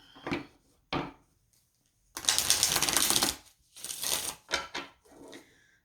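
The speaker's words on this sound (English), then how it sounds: "Let me give some shuffling here." Tarot cards are shuffled by hand in a quiet room. A few isolated taps are followed by a dense, papery riffle lasting about a second, then several shorter shuffling bursts, all close and fairly soft.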